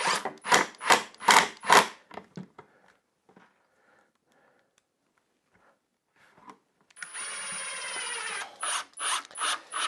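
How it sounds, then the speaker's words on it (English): A power screwdriver drives a couple of screws into the end of a wooden drying jig for finishing racks, in short whirring bursts near the start and again in a longer run toward the end, with quiet handling between. "So I'm just going to put a couple of screws in the end here."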